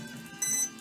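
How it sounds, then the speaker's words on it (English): A single sustained high-pitched electronic beep from a model aircraft speed controller confirming calibration on a servo tester, close and clear over a faint steady hum. "and the beep saying confirmation."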